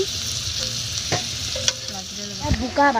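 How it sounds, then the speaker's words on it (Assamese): Food frying in a pan while being stirred, close sizzling with scraping spatula strokes and a few sharp clacks against the pan. "ভাজি হৈ লওক"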